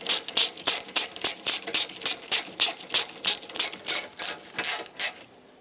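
A ratchet wrench clicks in quick, even bursts, a steady run of sharp metallic pawl strokes tightening a bolt on a Mazda 6 radiator, close and clear with no talk.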